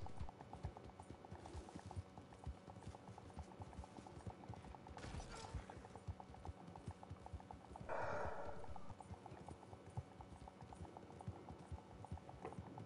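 Horse hooves clip-clop steadily in a Wild West video game, a quick, even trotting rhythm at moderate volume over a low background hum, with no talking.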